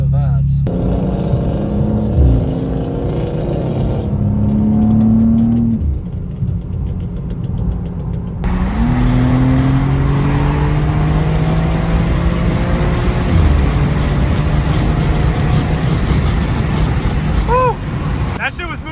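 A 2024 BMW G87 M2 drives through New York City, its engine droning loudly and rising in pitch as it accelerates through the gears, with people talking over it inside the cabin.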